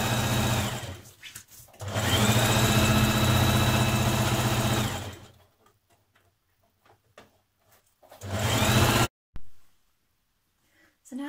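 A sewing machine runs in two long bursts along the front and side edges of a vintage-style apron, a steady close whir that stops, is followed by quiet handling sounds and then resumes briefly.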